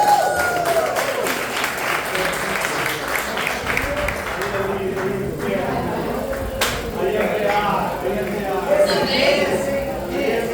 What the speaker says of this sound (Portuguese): Vocês possam receber o Samuel com palmas para Jesus.